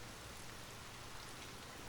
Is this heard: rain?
yes